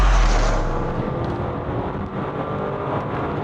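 Bentley Bentayga V8 engine accelerating hard, a loud, dense roar from inside the cabin that holds steady for a few seconds with slight dips suggesting gear changes.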